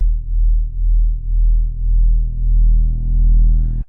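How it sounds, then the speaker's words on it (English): A deep Serum 2 synth bass tone drones on, wobbling in slow, regular pulses from two slightly detuned sine waves, then cuts off abruptly. "we've activated that detune between the 2 sine waves, so it's starting to wobble already"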